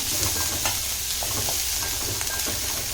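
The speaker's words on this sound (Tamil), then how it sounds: "இந்த வெங்காயத்தையும் நல்லா சாஃப்டாக வதக்கிக்கலாம்" Onions sautéing on low heat in a covered pan for a roasted brinjal pachadi, giving a steady close sizzle with faint stirring scrapes throughout.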